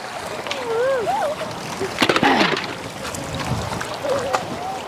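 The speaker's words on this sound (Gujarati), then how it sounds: "આમ તો જો કેટલું બધું પાણી આવે" A large volume of water rushes and splashes steadily, with a louder burst of splashing midway, while voices call out and talk over it nearby.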